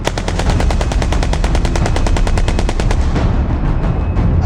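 A fully automatic weapon fired from the hip near a WW2 bunker dig site lets off a loud, rapid, evenly spaced burst lasting about three seconds before the echo trails away.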